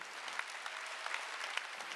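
A congregation claps together during a Korean church Sunday service, a soft, continuous patter of many hands at moderate distance, with no voices over it.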